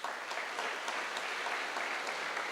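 An audience at the 2016 XQ Super School Project prize event in Grand Rapids gives a sustained round of applause, with an even, unbroken patter of many hands from start to finish.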